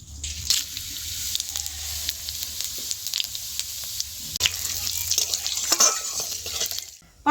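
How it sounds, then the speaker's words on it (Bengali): Dry red chillies, bay leaves and five-spice seeds sizzle and crackle steadily in hot oil in a wok, a close, continuous frying hiss with brief stirring scrapes and a sharp clatter near the end. "ফোড়নটা ভাজা হয়ে গেছে"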